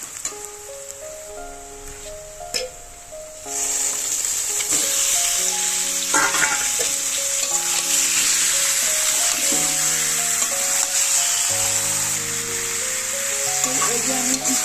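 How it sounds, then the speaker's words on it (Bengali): Chicken frying in oil with onion and turmeric sizzles loudly in a pan and is stirred, the hiss swelling after a quieter start while background music plays. "এই যে আমি একটু মাংসটা নেড়ে নিলাম"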